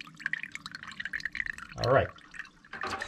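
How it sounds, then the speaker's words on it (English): Water leaks from a hole in a cast iron drain pipe with quick, irregular dripping and trickling. It builds into a short splashing gush near the middle, then falls back to drips, and someone speaks close by. "That is leaking like a sieve."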